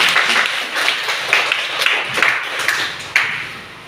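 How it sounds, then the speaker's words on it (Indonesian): A classroom group clapping hands in Indonesia, a short run of loose, uneven claps with a few sharper accented hits, fairly close and fading toward the end. "terima kasih tepuk tangan"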